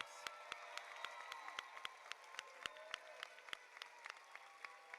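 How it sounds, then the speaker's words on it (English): Graduation ceremony crowd applauding the graduates' mothers, a quiet, distant wash of clapping with sharp individual claps standing out irregularly across five seconds. "This applause is for the moms."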